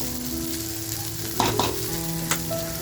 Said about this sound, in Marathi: तर बघा आपला मसाला छान फ्राय झाला आहे